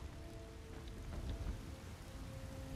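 Steady hiss of rain falling on surfaces in the video game Skyrim, with a low rumbling undertone, fairly faint and continuous.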